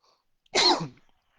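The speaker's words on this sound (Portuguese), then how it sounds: "Mas antes, deixa eu espirrar aqui." A single sharp sneeze bursts out close to the microphone, short and loud, with silence before and after.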